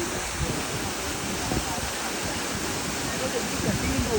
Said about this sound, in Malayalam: ഇതാണിപ്പോൾ പറഞ്ഞ വെള്ളച്ചാട്ടം.